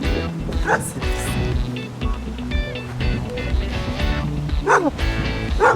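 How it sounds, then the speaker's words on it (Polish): A small dog yips and barks repeatedly in a village, close and fairly loud, heard among people chatting and general outdoor bustle. "I piesek."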